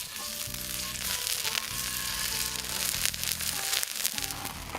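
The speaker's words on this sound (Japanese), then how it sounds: "もも肉のステーキを焼いていきます。" Chicken thigh steak sizzling on a grill net over a campfire, a steady close crackle and spit of frying fat with soft snaps throughout.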